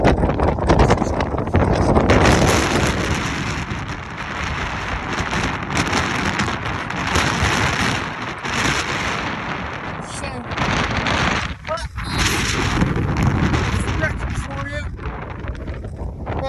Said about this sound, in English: Hear me, the wind is so blowy up here.